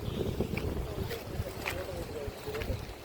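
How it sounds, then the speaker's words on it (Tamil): Strong wind buffets the microphone in gusty rumbles, with faint voices and intermittent knocks beneath the roar. "பயங்கரமான காற்று"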